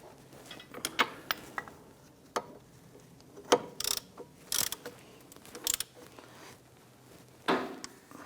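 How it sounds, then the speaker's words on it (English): A ratchet tightens the caliper bracket bolts on a 2011-2021 Jeep Grand Cherokee front end, giving bursts of quick metallic clicks separated by short pauses, close and fairly loud. "we'll go ahead and grab our ratchet and snug those down"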